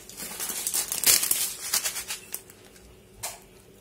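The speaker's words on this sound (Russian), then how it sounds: "Сейчас возьму еще один пакетик." A plastic packet of coconut flakes is crinkled and handled while decorating a christening cake, a burst of sharp rustling crackles that tapers off, then one more brief crinkle.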